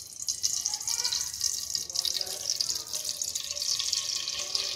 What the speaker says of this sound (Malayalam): നമുക്ക് 4 ടേബിൾ സ്പൂൺ സൺഫ്ലവർ ഓയിലാണ് എടുത്തിരിക്കുന്നത്. നമുക്ക് ഇതിലേക്ക് ഒഴിച്ചു കൊടുക്കാം.